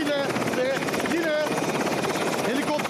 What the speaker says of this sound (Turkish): Türk Silahlı Kuvvetleri'ne ait helikopterlerle bölgeye yardımlar gidiyor